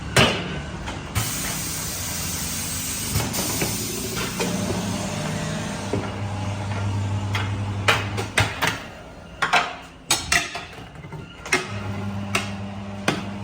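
An automatic tire changer machine works a car tire off its rim, a mechanical hum and whine punctuated by sharp clanks, knocks and pneumatic bursts, loud and close.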